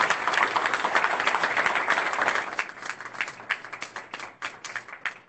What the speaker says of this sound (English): Let's give him a big round of applause to Deputy Gonzalez.